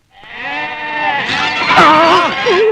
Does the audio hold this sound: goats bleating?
yes